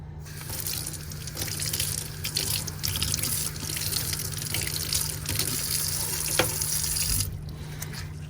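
A sink tap runs steadily while clay tools are rinsed, giving a continuous close gush and splash of water that stops abruptly near the end, with no talking.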